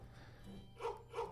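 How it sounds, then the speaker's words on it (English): A dog in the video game Dead In Vinland gives two faint, quick barks about a third of a second apart over a low ambient game background. "I heard a barking sound."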